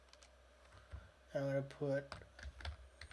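Computer keyboard keys tapped to type a terminal command, a few quiet scattered clicks around a spoken phrase.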